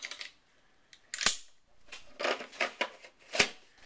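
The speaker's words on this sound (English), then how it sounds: "Empty clip goes in." An empty gun magazine is inserted with a few sharp metallic clicks and scrapes, including one crisp snap near the end, close and fairly loud in a quiet room.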